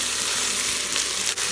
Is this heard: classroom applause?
no